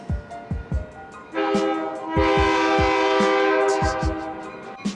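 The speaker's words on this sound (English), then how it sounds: "I decided to shoot video right by the metro train" A train horn blares loudly and steadily for several seconds while rhythmic wheel thumps clatter beneath, a metro train rolling close by.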